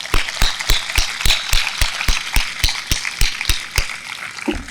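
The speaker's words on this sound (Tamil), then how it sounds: "இந்த ஹீரோ ஹீரோயின்ஸ்க்காக நல்ல ஒரு கைத்தட்டல் தரலாமா?" A school audience claps in rhythm, sharp evenly spaced claps ringing out over a broad wash of crowd applause, loud and close throughout with no voices on top.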